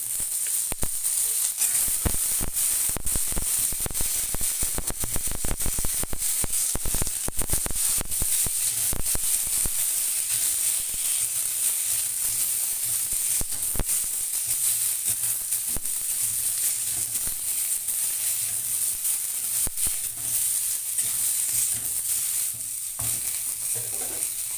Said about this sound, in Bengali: সরষেটা এরকম ফুটে গেলে 5 ফোড়ন দিয়ে সুন্দর একটা গন্ধ বার হলে এর মধ্যে আমি আমটা দিয়ে দেবো।